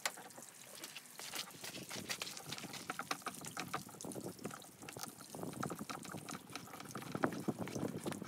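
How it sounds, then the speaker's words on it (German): Garden hose water pouring into an outboard motor flushing adapter, a steady splashing, trickling flow with dripping, fairly close and moderately quiet, no voices. "Jetzt habe ich schon mal den Schlauch angemacht"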